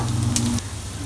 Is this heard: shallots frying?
yes